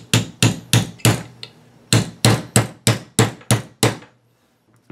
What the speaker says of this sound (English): you're gonna need your hammer. So usually I'll take it, lay it down here, use my punch again.